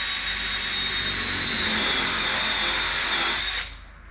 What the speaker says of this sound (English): So you just want to drill a hole big enough